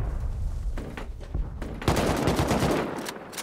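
Rapid bursts of gunfire crackle through a video game raid, scattered shots giving way to a dense, sustained volley of automatic fire that fills the last half.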